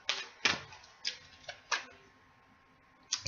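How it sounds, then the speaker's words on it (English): Tarot cards shuffled by hand in a quiet room, a series of sharp, papery riffle clicks and taps in irregular bursts, with short pauses between them and no talking. "I'm going to shuffle it once more."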